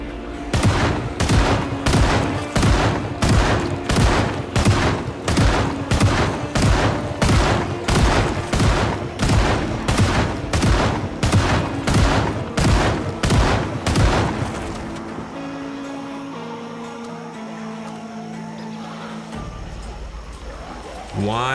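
Gunfire from the video game Project Zomboid: a long run of evenly spaced, loud shots at about one or two per second for roughly fifteen seconds, then a lower ambient rumble before one more shot at the end.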